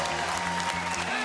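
A crowd applauds at a PBA professional bowling event, a short burst of steady, loud clapping with cheering voices mixed in.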